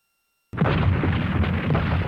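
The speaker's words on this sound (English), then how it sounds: "the Germans launched a massive artillery bombardment of Warsaw" German artillery bombardment of Warsaw: a sudden loud blast after silence that rolls on as a dense, sustained roar of explosions, close and overwhelming, with no voices.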